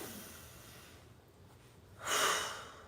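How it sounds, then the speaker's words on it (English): A single slow meditation breath taken as a golf focus exercise: a long, soft rushing exhale swells near the end, close and steady, with no talking over it. "That's 1 breath of meditation."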